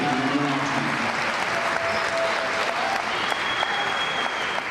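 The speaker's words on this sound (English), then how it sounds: "How about a big round of applause for our 5 seniors in their last regular season game?" A gym crowd at an Eastmont versus Wenatchee high school volleyball game applauds five seniors, steady, loud clapping and crowd noise filling the space for several seconds, with a faint whistle-like tone threading through.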